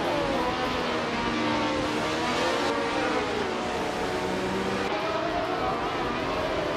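Pack of 1975 Formula One cars, including a Hill GH1, launching off the start line in a racing game: dense, continuous high-revving engine roar with overlapping pitch sweeps, loud and steady throughout.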